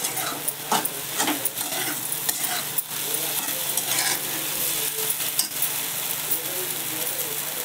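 Fish frying in a pan over a high gas flame, giving a steady close sizzle with frequent crackles and light scraping as the pieces are stirred and turned.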